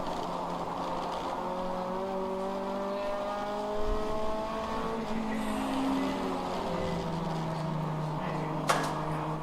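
Race car accelerating out of a corner at an endurance race at Joliet, engine note climbing through gears with some tire squeal, passing fairly near and loud, with a second car following.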